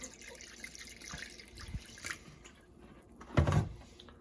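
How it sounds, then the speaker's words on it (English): Vinegar pours into a Lodge 15-inch cast iron skillet, a steady close liquid trickle and splash with a brief louder gush near the end, with no talking. "we're going to fill this thing, maybe not completely full, but quite a bit."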